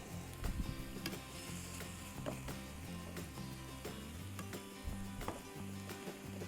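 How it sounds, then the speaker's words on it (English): Chopped vegetables, onions and green peppers sizzle steadily in a hot pan, a continuous crackle broken by a few sharp ticks and soft scrapes, with no talking. "You can actually smell the onions already starting to cook up."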